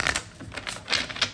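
A deck of tarot cards is shuffled up close, giving a quick series of crisp, papery riffles and flutters over little more than a second.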